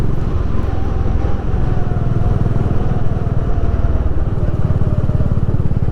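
A Honda CB350 motorcycle rides on rural roads around Chikmagalur, its engine a loud, close, steady throb with a continuous rumble mixed with rushing wind throughout.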